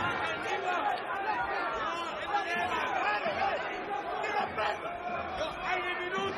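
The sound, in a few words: crowd at a boxing arena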